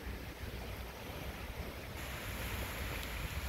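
Sea waves wash against the old sea wall of Acre (Akko) at night, a steady broad roar of surf mixed with wind rumble, continuous and even, with no voices.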